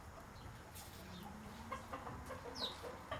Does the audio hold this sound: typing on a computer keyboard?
no